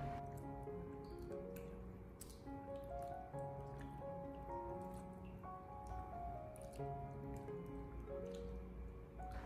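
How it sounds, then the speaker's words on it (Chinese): Raw potatoes being rinsed by hand in a basin of water to wash off surface starch, a quiet, continuous run of close splashes, drips and squishing sloshes. "再下手把土豆清洗一下，清洗掉土豆表面的一些淀粉。"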